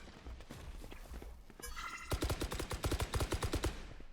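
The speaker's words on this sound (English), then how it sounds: "They're just shooting at walls." Rapid video game shooter gunfire, a dense burst of loud close shots in quick rhythmic succession following quieter scattered shots and a short mechanical rattle.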